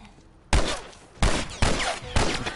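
Gunfire in The Last of Us video game: four loud, sharp bursts of shots spaced irregularly, each with a ringing tail, with no talking.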